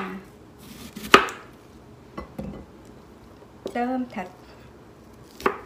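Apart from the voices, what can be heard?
knife chopping onion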